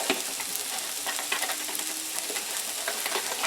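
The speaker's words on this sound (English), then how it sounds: "we're going to make a slight roux" A slight roux of flour stirred in a hot frying pan, giving a continuous crackling sizzle with scraping stir strokes throughout, loud and close, with no talking.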